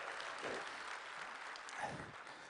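Audience applause at a cloud technology keynote, steady and moderately distant clapping filling the room for honored guests, with a brief voice rising over it near the end.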